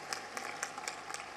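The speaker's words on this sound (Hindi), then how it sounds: "जोरदार तालियों से अभिनंदन करें उन भावनाओं का।" An audience at a Delhi school smart-classroom event claps in rhythm, a faint, fairly distant run of evenly spaced claps with a low steady hum underneath.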